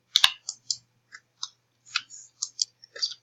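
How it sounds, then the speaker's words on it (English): Sparse, quiet keyboard and mouse clicks come from someone playing the Roblox game Fallen Rust on a computer. The clicks arrive in irregular short taps and small clusters over near silence, with no talk. "I apologize if you hear a keyboard or a mouse."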